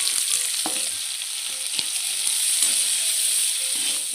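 Sliced onions with a little spice masala sizzle and crackle steadily in hot oil in a pan, close and continuous, with a few soft stirring clinks and no voices.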